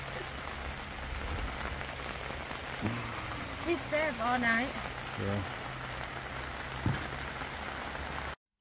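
Rain pours steadily onto a campsite at Phu Thap Boek, a dense constant patter close by, while a person talks briefly and soft music-like tones drift in partway through.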